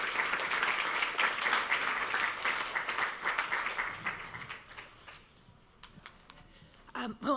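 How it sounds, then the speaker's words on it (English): An audience gives a round of applause after a talk, dense clapping that holds for several seconds then thins and fades, with speech starting up near the end. "can we give her a round of applause?"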